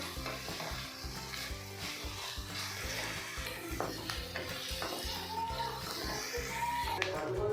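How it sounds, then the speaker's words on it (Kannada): Two big finely chopped onions sizzle and fry steadily in a pan while being stirred, a continuous close hiss with occasional clinks, cooking for a Hyderabadi hariyali murgh chicken dish. "ಆನಿಯನ್ ಫುಲ್ ಸಾಫ್ಟ್ ಆಗುವಾಗ ಚೆನ್ನಾಗಿ ಫ್ರೈ ಮಾಡ್ಕೋಬೇಕು"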